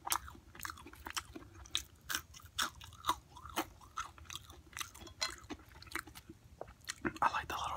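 Close, crisp chewing and crunching of small, crispy burgers, a steady run of sharp bites and munches in a quiet room, with soft breathy sounds between them.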